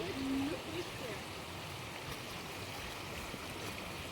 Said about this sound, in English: We're just about to cross this river.